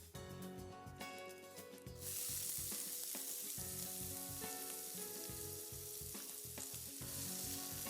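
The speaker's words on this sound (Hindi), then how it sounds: "इन मसालों को आप हल्का सा पका लें और अब इसमें डालें बारीक कटा हुआ प्याज।" Finely chopped onion frying with spices and curry leaves in a pan, a steady loud sizzle with stirring scrapes that jumps brighter and hissier as the onion goes in, alongside background music.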